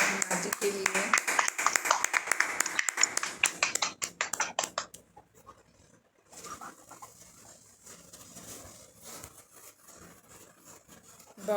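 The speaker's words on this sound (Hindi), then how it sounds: "सभी ताली बजाएंगे अपने ध्यान के लिए," A group at a meditation session clapping hands together, rapid dense claps loud at first, thinning and fading out after a few seconds, followed by quieter room sound with voices.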